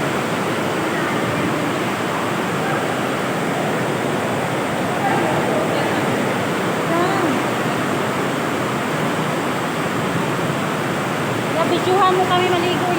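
Water rushes steadily inside a river cave, a dense, loud, unbroken roar echoing off rock, with only faint movement near the end.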